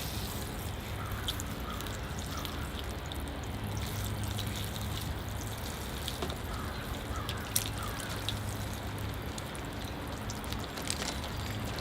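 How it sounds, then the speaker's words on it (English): Water sprinkled over a Ficus microcarpa bonsai tree, a steady soft hiss of spray and trickling drips throughout, fairly faint, with a few birds audible in the background. "my next step, I'm going to give the tree a good thorough watering"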